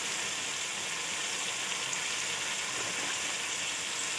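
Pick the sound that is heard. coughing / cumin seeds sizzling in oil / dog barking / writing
cumin seeds sizzling in oil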